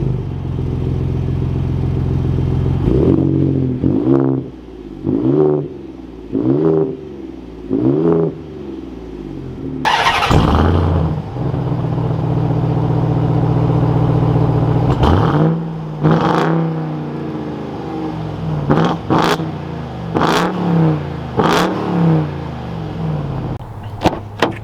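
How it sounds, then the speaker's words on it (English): Supercharged V8 exhaust of a 2021 Ram TRX truck revving loud and close, a run of five or six sharp blips rising and falling, then a longer sustained roar followed by several more quick revs. "You got the exhaust that sounds fantastic because it's a big supercharged V8."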